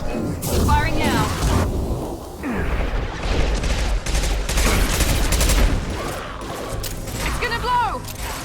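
Video game gunfire in Mass Effect 2 comes as rapid bursts of weapon shots and booming impacts, loud and close, mixed with shouting voices and combat effects.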